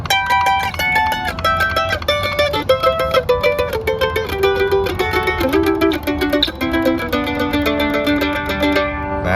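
Mandolin plays a descending double-stop scale, fretted with the ring and first fingers, as an intermediate lesson exercise: steady two-note harmonized steps stepping downward, close and clear, with no talking.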